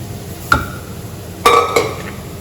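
A spoon stirs cashew paste into a pea curry, clinking sharply against the pot three or four times, with quiet gaps between the knocks.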